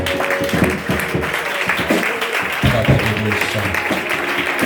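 A church congregation at an evangelistic seminary applauds and cheers for Jesus, loud, dense clapping mixed with shouts and voices that carries through the whole moment.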